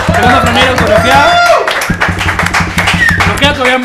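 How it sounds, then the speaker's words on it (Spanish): Studio audience clapping and cheering for a giveaway winner during a live music stream, loud and close, mixed with a voice talking and background music. "Un aplauso para Graci Díaz."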